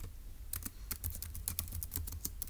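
Someone types notes on a computer keyboard in quick, irregular clusters of close key clicks, fairly soft against a quiet room with a low background hum, and no one speaks.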